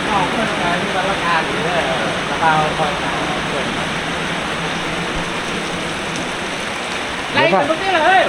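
Steady rain falls outdoors as a constant hiss and patter, with a voice breaking in now and then over it.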